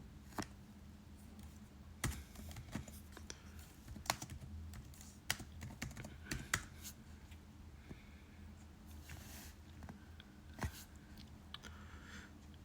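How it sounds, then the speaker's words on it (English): Computer keyboard typing comes in irregular bursts of quiet, close clicks and keystrokes, with short pauses between runs. "I'm just gonna type it in."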